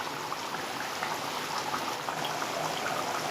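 A pot of curry with potatoes and broad bean pods at a steady rolling boil, close and continuous bubbling and popping with no one speaking.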